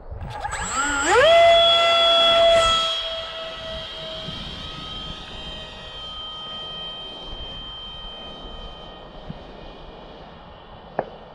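A ZOHD model airplane electric motor spins up from low to a high whining pitch for launch, then holds a steady, fairly loud drone with no talking.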